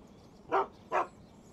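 A dog barks twice in quick succession in the video game Shadow of Destiny, two short, fairly loud woofs against a quiet background.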